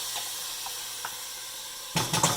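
Food browning in a pan sizzles quietly at first, then a louder burst of crackling and spattering rises near the end, as if the food is stirred or moved.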